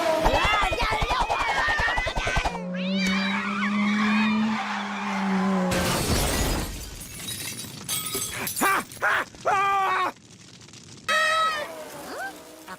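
Cartoon race cars at the Springfield Grand Prix with tires skidding, crashes and shattering, mixed with comic cat yowls and other effects in quick bursts separated by short silences.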